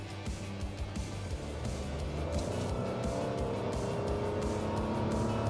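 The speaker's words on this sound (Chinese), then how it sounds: "那我试一下它的0-100的那个反应加速是怎样的。" A 2024 Nissan Almera with a 1.0-litre three-cylinder engine pulls away from a standstill under hard acceleration, its engine note rising steadily and loudly from inside the car.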